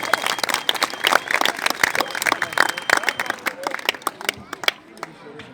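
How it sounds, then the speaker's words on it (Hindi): An audience at a speech event bursts into dense, loud applause with crowd noise mixed in, sustained for several seconds before it thins out toward the end. "जोरदार तालियों से इनका इस्तेमाल कीजिए।"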